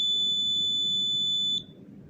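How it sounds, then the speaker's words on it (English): A steady, high-pitched electronic buzzer tone from a homemade social distancing device sounds continuously for about a second and a half, then cuts off, leaving a low background hum. "So you can see that the buzzer goes."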